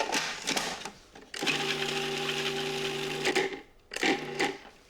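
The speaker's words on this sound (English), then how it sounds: "Just process that until the garlic and the parsley are minced." A food processor minces garlic and parsley with anchovy paste and Dijon mustard, its motor whirring loudly in two pulses, a short burst and then a long steady run, followed by another brief pulse, close and without talk.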